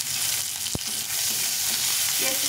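Chopped onion frying with dried chilli, cumin and bay leaves in a pan for fish curry, a loud continuous hiss of sizzling oil with one sharp knock early on.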